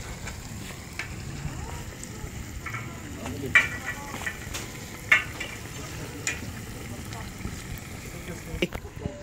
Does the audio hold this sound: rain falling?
no